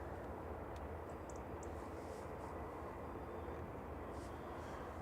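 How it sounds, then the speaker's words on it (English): An airplane approaching Manchester Airport, passing between Stockport and Glossop, gives a steady, distant broadband engine roar that stays level throughout without a clear peak. "And there is the big red plane, the 2E coming in."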